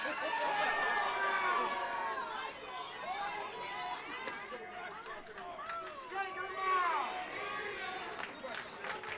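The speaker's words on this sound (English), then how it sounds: "this audience is allowed to chant and cheer whatever they want" Wrestling crowd at a Ryse Wrestling event, a steady roar of cheering and chatter filling the hall, close and fairly loud, with a brief swell of shouting near the end.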